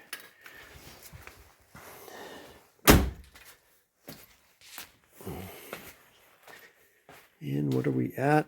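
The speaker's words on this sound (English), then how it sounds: "I got to shut the door" A door on a 1993 Lincoln Town Car is shut once with a single loud thunk partway through, set between quiet rustling and short stretches of someone talking nearby.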